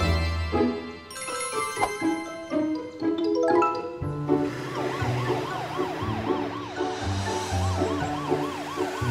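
A cartoon ambulance siren wails loudly and alone, its rising and falling tone cycling steadily over bright, bouncy musical notes.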